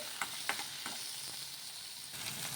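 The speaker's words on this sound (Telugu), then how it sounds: "టమాటో ముక్కలు వేసుకొని కొద్దిసేపు మగ్గించుకుందాము" Tomatoes and chillies frying in oil in a pan on a gas stove, with a steady, loud sizzle and a few light stirring taps.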